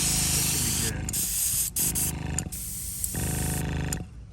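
A paint spray gun at about half pressure sprays a faded Porsche 944 dashboard inside the car, a close, loud hiss in several bursts separated by short pauses, with faint clicks of the trigger between them.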